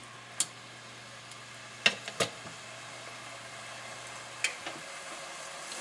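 Onions, garlic and ginger sautéing in a pan for liver a la Milanese, a low steady sizzle with a few sharp clicks and scrapes from stirring, no talking.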